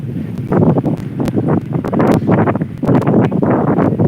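Seaside wind blowing steadily near large trees, a continuous broadband rush with rustling gusts across the whole stretch, fairly loud and close, no talk.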